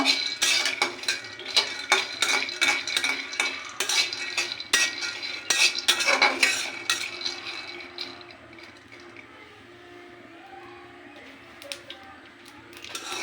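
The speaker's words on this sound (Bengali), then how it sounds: "কড়াইতে প্রথম বাদামটা দিয়ে বাদামটা ভেজে নেব" Peanuts fry and get stirred in a wok (kadai), with a close, busy scraping and rattling of the spatula against metal over a sizzle. The stirring is dense at first, then fades to a quieter simmering hiss.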